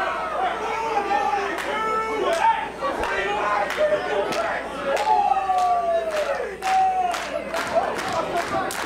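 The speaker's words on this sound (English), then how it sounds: "And Ganon getting the crowd behind them yet again." A pro wrestling crowd cheers and chatters continuously at a tag team match. Sharp slams and impacts punctuate the noise, with commentary voices over the crowd.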